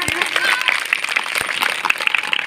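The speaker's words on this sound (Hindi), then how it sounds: "साथियों, बाबा साहब के सम्मान में जोरदार तालियां," A crowd at a Samta Sainik Dal rally claps loudly in honour of Baba Saheb, a dense, continuous burst of many hands with a few sharp close claps standing out, lasting a couple of seconds.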